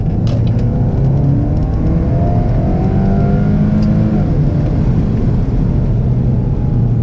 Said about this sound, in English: I'm gonna do a pull here, second gear, manual.